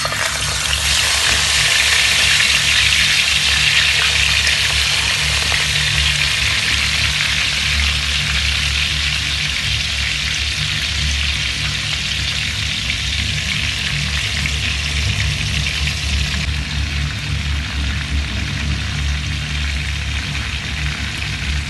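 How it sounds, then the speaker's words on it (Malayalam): Chicken pieces fry in vegetable oil in an uruli pan with a loud, steady sizzle and crackle that continues unbroken throughout. "ഒരു ഉരുളിയിൽ വെജിറ്റബിൾ ഓയിൽ ഒഴിച്ച് ചിക്കൻ ഒന്ന് ഫ്രൈ ചെയ്തെടുക്കാം."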